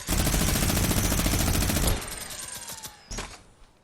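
Minigun in Fortnite fires a dense, continuous burst of rapid shots for about two seconds, loud and close, then stops with a few scattered trailing shots and echoes.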